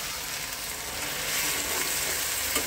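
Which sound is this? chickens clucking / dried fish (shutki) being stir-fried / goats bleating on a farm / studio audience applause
dried fish (shutki) being stir-fried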